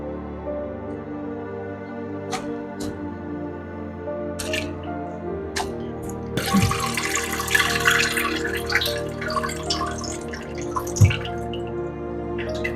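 Grated potatoes for hash browns are tipped into an ordinary kitchen strainer, and the water drains out with wet splashing and dripping that swells for a few seconds midway, then eases back to scattered drips.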